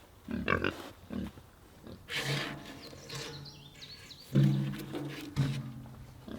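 Pigs grunting and squealing up close, several bursts in a row, with a few higher squeals mixed in.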